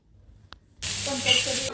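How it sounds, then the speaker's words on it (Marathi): Chigal greens roasting on a hot iron tava: a short tap, then a sudden, steady close hiss and sizzle, with a voice faintly under it. "भाजीला आहे ना तव्यामध्ये भाजून घ्यायचं आहे"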